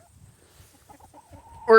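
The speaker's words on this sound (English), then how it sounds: "These chickens are all getting pretty old." Old hens are clucking softly in low, scattered calls, ending in a sudden loud, close squawk.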